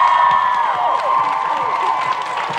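A television studio audience cheers and applauds, loud whoops and shrieks rising over continuous clapping, with music playing beneath.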